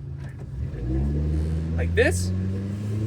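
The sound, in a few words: Nissan Pike car engine running while driving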